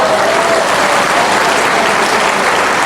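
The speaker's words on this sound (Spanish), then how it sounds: "Denle un aplauso al Señor," Church congregation applauding loudly and continuously, a thick, close wall of clapping from many hands with no pauses.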